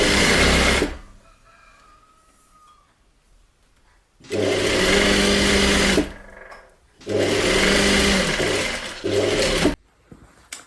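A sewing machine stitches the long edges of a tailored jacket's facing in three loud bursts of fast, steady whirring, each lasting a couple of seconds, separated by quiet pauses with faint handling noise.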